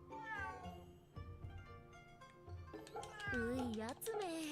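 A cat in the video game Fate/Samurai Remnant meows several times, close and clear, with wavering, drawn-out cries layered over steady game background sound.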